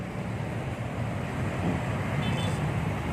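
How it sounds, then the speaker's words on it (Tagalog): Heavy road traffic makes a steady, broadband rumble and hiss from a vehicle interior, with no distinct horns or passing cars standing out. "Grabe naman traffic na ito."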